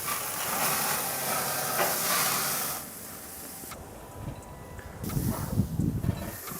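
Beef burger patties sizzle on a hot grill, a steady close hiss that fades after a few seconds, followed by softer crackles and a renewed burst of sizzling and spattering near the end.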